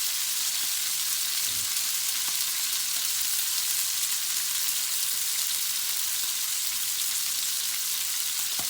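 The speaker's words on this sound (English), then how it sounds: "we'll just turn the heat down a little bit and let that sizzle away for a few more moments" Duck sizzles in a hot pan with the heat turned down, giving a steady, dense hiss and crackle of frying fat that continues evenly throughout with no voices.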